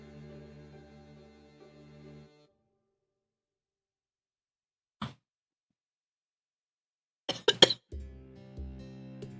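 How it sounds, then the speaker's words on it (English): A person coughs after swallowing wrong: one sharp isolated cough, then a tight cluster of several harsh coughs a couple of seconds later, close and loud against quiet surroundings with a low hum at either end. "I was coughing."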